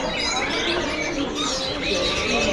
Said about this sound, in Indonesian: Ini jalak nias.